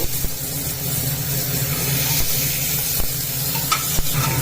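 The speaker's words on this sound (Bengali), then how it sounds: "একটু নেড়ে নিচ্ছি" Vegetables, carrot and egg sizzle steadily in a hot pan while a utensil stirs and scrapes, with occasional sharp knocks against the metal.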